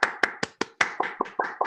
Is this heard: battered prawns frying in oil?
no